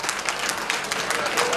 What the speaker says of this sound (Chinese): 首先给大家一个很热烈的掌声